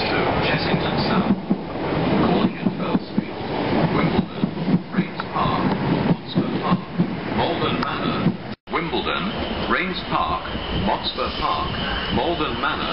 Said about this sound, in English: The train now approaching platform 11 is the 1455 Southwest train service to Chessington South